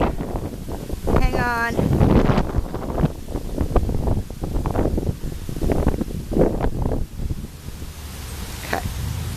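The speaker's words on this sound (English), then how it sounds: "It's really windy." Strong outdoor wind buffets the microphone in a continuous, rumbling roar with gusty swells, while a person briefly speaks over it.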